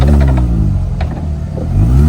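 An R53 Mini Cooper S fitted with a cheap eBay exhaust revs up close by. Its loud engine note rises and falls through a throaty blip and then climbs again at the end.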